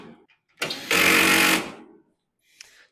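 A power driver tightens screws during assembly of a Traeger Woodridge Pro pellet grill, with one loud whirring burst of about a second and faint handling noises before and after.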